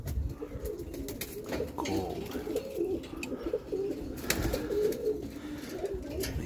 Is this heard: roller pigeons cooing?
yes